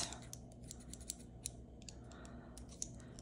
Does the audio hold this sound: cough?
no